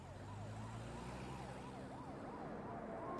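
A wailing emergency siren cycles up and down repeatedly, steady and fairly loud, with a low rumble of traffic underneath.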